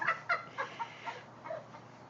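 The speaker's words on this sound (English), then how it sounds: "Whoa, look at that chicken go." A chicken being chased gives a quick run of short, soft clucks, about six or seven in two seconds, fairly close and otherwise alone.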